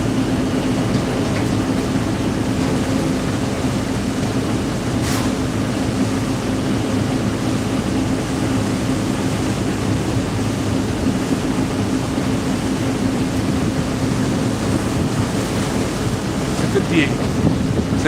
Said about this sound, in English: I'm right next to the engine, so it's a bit noisy.